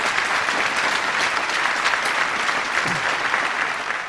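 Concert audience applauds at a live music performance, a thick, continuous wash of clapping from a large crowd, loud and unbroken.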